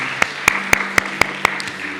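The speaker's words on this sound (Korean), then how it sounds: "우리 주님께 감사와 영광의 박수 올려드리겠습니다." Sharp hand claps land in an even, quick rhythm, about six in a row, like a church congregation clapping together in time during a Sunday service.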